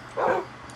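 A single short bark from a dog in the game Minecraft, one of a tame pack waiting nearby, heard alone at moderate loudness with a faint background.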